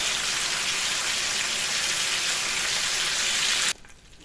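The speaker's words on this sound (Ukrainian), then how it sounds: "На великому огні просто обсмажую." Liver sizzles loudly in a pan of a little oil over high heat, a dense steady crackle that cuts off abruptly near the end.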